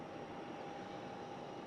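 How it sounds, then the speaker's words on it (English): Aircraft auxiliary power unit running at Southend Airport, a continuous steady whine with a constant tonal hum over broadband roar, unchanging throughout and with no voices. "No, that's definitely the APU."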